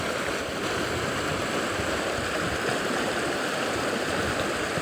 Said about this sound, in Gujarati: આ પાણીનો અવાજ કેટલો આવે